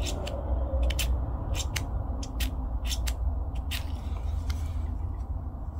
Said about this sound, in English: It's quite a quiet click. If I'm quiet, you can listen to it.